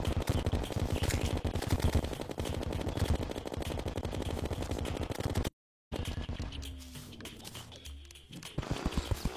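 Rapid automatic weapon fire in the Terraria video game, a dense continuous burst of shots that drops out briefly before quieter game sounds and a few more shots return.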